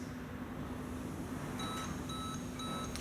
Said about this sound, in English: you'll get bells and buzzers and warnings flashing up on the dashboard